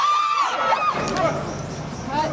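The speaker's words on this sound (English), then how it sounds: "The wrestling fans enjoy this event greatly and can be heard excitedly cheering every move in the game." Wrestling fans at the Hornbill Festival in Nagaland cheer and shout in a steady crowd roar, with excited voices rising and falling throughout.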